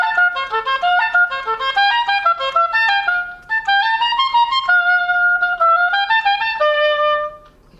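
Solo oboe playing the light, dancing first phrase of an etude, a clear run of quick, detached notes that rise and fall before settling into longer held tones, close and bright.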